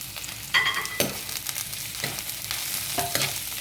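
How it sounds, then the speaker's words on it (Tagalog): Cabbage sautéing in a pan makes a steady sizzle broken by several sharp spatula stirs and scrapes at uneven intervals, close and fairly loud. "At isabay na natin ang repolyo. So, igisa natin."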